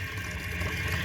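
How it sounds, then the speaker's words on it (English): A 1988 Kilgore toilet tank refilling with water: a steady, low rushing hiss of flowing water, even and continuous at close range, with no voices. "So the tank should be done filling very shortly"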